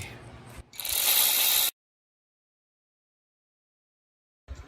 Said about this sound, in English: got my wrench set to 8 Newton meters. Just gonna torque all these